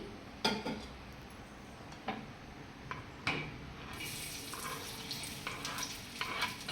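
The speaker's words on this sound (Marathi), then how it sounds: "फक्त एकच कांदा टाकलेला आहे तेल चांगलं गरम झालेलं आहे" A single onion goes into hot oil in an iron pan, giving a soft sizzle that grows brighter and fuller partway through, broken by a few sharp clinks and taps of the utensil, with no voices.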